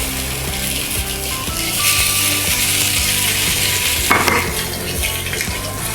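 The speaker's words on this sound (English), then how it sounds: "I'm going to give it a little bit of olive oil, just a touch, and we'll get this pork belly searing off." Pork belly sears in a touch of olive oil in a hot pan, a loud, dense, continuous sizzle and crackle with occasional scraping and stirring clatter, no voices.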